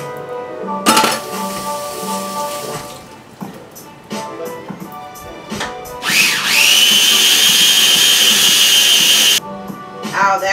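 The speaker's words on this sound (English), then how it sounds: "my little blender, it's not a fancy little blender as you can see" A small, basic blender whirs loudly, blending walnut pesto in a kitchen, running steadily for a few seconds amid clinks of dishes and faint talk.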